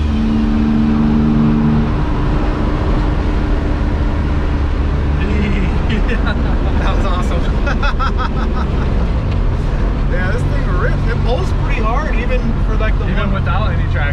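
A 1974 Ford Courier pickup's engine roars and revs hard close by during a one-wheel peel, with tire noise and brief voices talking over the loud rumble.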